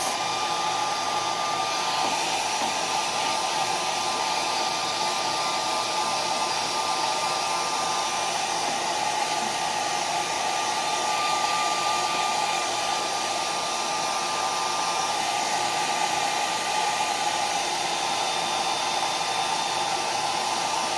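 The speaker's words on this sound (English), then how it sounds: "as I'm blow drying, I'm running my fingers through the wig" A hair dryer blows steadily on a wig for about twenty seconds, a close, even whooshing roar with a faint high whine and no voices.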